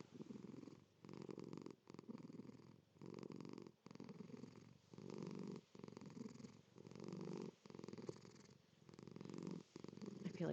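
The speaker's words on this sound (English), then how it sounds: "there's a cat purring in my lap" A cat purring while curled in a lap, a steady, close rumble pulsing in rhythmic in-and-out cycles roughly every second, growing slightly louder over time, with no other sounds.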